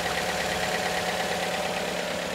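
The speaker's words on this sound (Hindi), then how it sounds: "बिल्कुल नया इंजन जैसे होता है ऐसे साउंड हो गया गाड़ी" A Toyota GLi car engine running steadily just after a new engine was fitted, an even, close idle hum with a smooth continuous tone and no talking.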